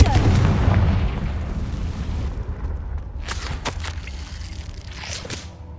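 A Confringo blasting spell goes off in Hogwarts Legacy, a heavy rumbling explosion that starts loud and slowly decays, followed by a few sharper cracks and impacts in the fading tail.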